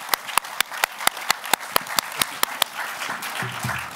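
Audience applause for the speakers after an evening panel discussion on pluralism, at first a few distinct claps in a sparse rhythm that thicken into a fuller, steady round of clapping from the crowd toward the end.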